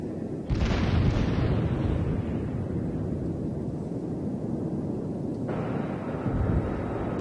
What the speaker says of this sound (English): That's my secondary armament you're seeing firing right now.